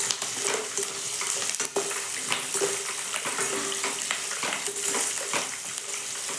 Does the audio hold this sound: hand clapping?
no